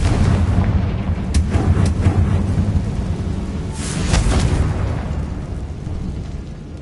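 Confringo blasting spell going off in Hogwarts Legacy on PS5: a dense, continuous rumbling roar with sharper blasts bursting out near the start and again midway, loud throughout.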